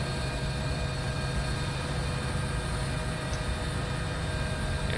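Helicopter in flight inside the X-Plane 11 simulator, a steady droning rotor and engine hum holding constant and fairly loud throughout, with no talk over it.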